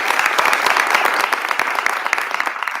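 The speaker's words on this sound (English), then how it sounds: "I want to give her a round of applause." An audience at a political event on abortion access applauds a senator, giving a dense, loud, continuous round of clapping that lasts throughout without letting up.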